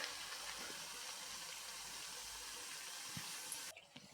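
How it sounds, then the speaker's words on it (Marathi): Karanji pastries fry in hot ghee with a steady, close sizzling hiss that holds evenly for several seconds before cutting off abruptly near the end. "करंजी नेहमी तुपातच तळावी"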